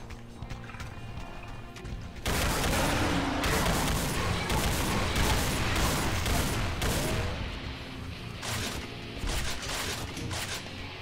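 Rapid gunfire in the Doom mod Project Brutality, a loud dense barrage of shots that bursts in after two quieter seconds and keeps going nearly nonstop, with crashes and impacts mixed through it.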